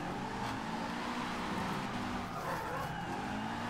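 A Fiat 131 in Forza Horizon 2 bogs down in third gear while drifting, a steady strained engine drone with faint tire scrub, continuous and fairly quiet.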